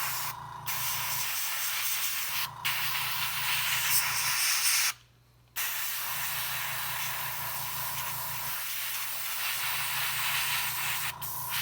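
An airbrush sprays a second coat of paint with a steady close hiss, broken into bursts by short pauses as the trigger releases, alongside a low pulsing compressor hum.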